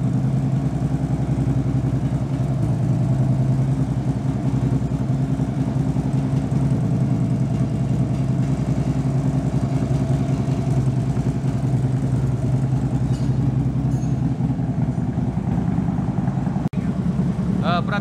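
A Harley-Davidson motorcycle engine runs at a steady idle during flushing, a continuous loud low rumble with mechanical clatter, close to the microphone, with one brief knock near the end.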